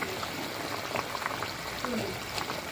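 Curry gravy bubbling in a pan before eggs are added, a soft continuous simmer with small pops and gurgles, fairly quiet and close, with no talk over it.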